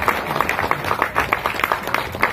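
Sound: audience applause for Massimo at an award ceremony

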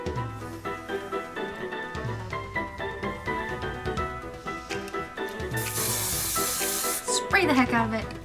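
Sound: hairspray being sprayed on hair

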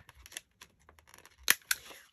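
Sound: scissors cutting paper for journaling cards

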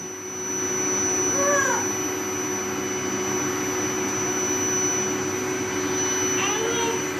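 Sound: vacuum cleaner running

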